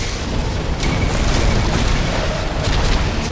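A support pillar blows up in the Grey Goo strategy game, a loud sustained rumbling blast with dense low-end boom and crackling debris filling the whole moment without pause.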